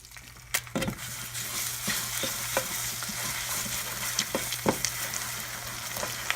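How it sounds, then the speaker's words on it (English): Two eggs with a little butter are whisked and scrambled in a non-stick pan. A soft, steady sizzle runs under sharp, irregular clicks and scrapes of the utensil against the pan, close by and with no talk. "I'm going to crack 2 eggs in here and just kind of whisk them around to scramble them"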